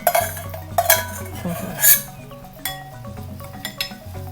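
Blanched minced pork for larb being mixed in a bowl, with repeated clinks and scrapes of a utensil against the dish.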